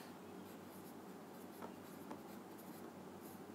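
Handwriting with a pen on paper during a class lesson, a quiet, close, continuous scratching with a couple of slightly sharper strokes and a steady low hum beneath, no speech.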